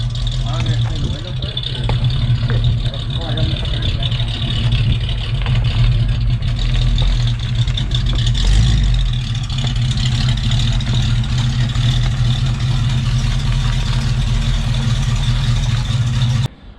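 A neglected 1973 AMC Javelin Pierre Cardin edition with a cracked fuel line runs with a loud, rough, low engine rumble that briefly swells around a rev, while people talk over it nearby.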